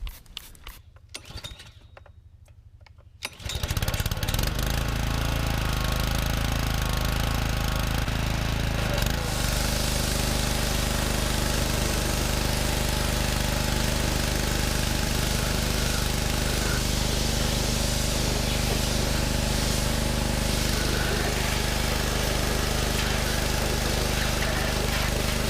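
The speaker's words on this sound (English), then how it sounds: "Then I'll turn the pressure washer on it and blast it all off." A petrol pressure washer starts after a few seconds of quiet and then runs loud and steady, its engine drone and hissing spray blasting cleaner off a Caterpillar D2 engine block.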